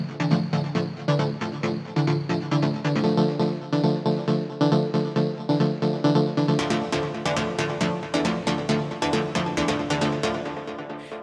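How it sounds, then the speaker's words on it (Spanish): Techno synth chords made in FL Studio pulse in a steady repeating rhythm, full and loud. Bright percussive ticks join partway through, with no voices. "Con un poquito de acordes, ahora sí, suena así"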